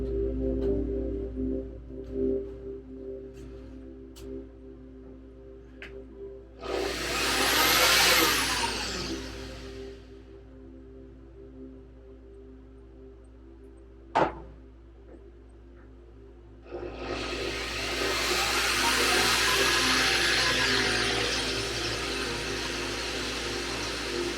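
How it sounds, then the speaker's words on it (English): A power drill cutting metal whines loudly in two long bursts, separated by quieter stretches with a low hum and a sharp knock. "All right, let's get drilling."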